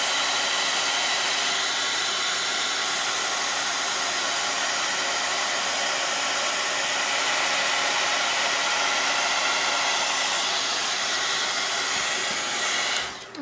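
A hair dryer blowing on a drawing to dry it runs as a steady, loud whooshing hiss for the whole stretch, then cuts off abruptly at the end.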